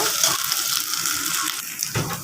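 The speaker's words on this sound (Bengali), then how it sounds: "এখন পানি দিয়ে দিব মশলাটা কষানোর জন্য।" Water poured into a pan onto fried ginger-garlic spice paste while cooking a poa fish curry, a continuous rushing splash with a sizzling hiss, close and fairly loud.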